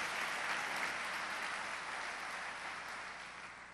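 Church congregation clapping together, a broad even rush of many hands heard from some distance, steady and slowly easing in level, with no one talking.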